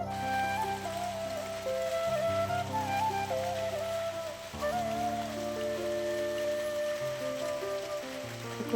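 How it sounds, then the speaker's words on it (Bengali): Rain falls steadily in the background during a home cooking session, a constant wash of patter that stays even throughout, with a droning tonal hum layered over it and no speech. "দেখো বৃষ্টি চলে এসছে"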